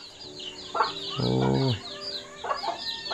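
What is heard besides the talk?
chickens clucking, being fed inside the house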